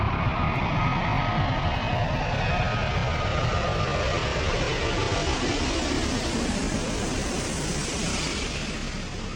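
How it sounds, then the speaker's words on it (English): An Airbus A380 passes overhead, a broad, steady engine roar and rushing wash filling the air, loud and continuous, easing slightly toward the end with no voices. "Here is another look at the Airbus A380 airplane spotted cruising the sky"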